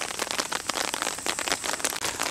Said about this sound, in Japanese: この雨の中でね、ポツポツ音を聞きながらやるっていうのもなかなかいいもんっすよね。